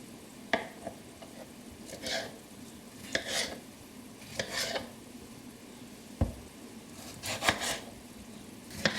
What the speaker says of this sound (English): So cut the tomatoes into large chunks, so quarter, and then cut half way through.